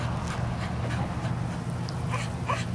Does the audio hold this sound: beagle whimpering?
yes